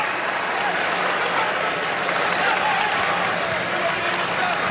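A packed basketball arena crowd of over 14,000 roars steadily in support of a player during a close Big Ten men's game, Maryland at Purdue, a continuous dense wall of cheering.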